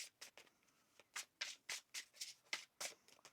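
Tarot cards shuffled by hand in a steady run of crisp riffling bursts, a dozen or so short papery flutters close by with brief gaps between them, alone without talk.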